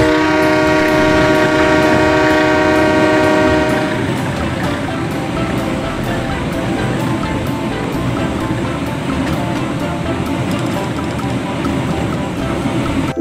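Toy model train with a CC201 locomotive in Perumka livery running, a steady loud rumbling mechanical whir throughout, with tonal humming strongly present in the first few seconds before blending into continuous noisy clatter.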